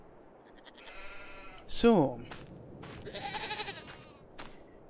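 Goats bleat in Farming Simulator 22 on a farm: one loud, wavering bleat rises and falls near the middle, with fainter animal calls before and after.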